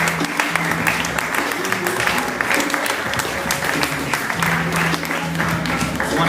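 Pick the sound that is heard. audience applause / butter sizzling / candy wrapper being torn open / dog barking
audience applause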